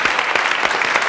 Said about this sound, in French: je crois qu'on peut applaudir Philippe Guérin, mesdames, messieurs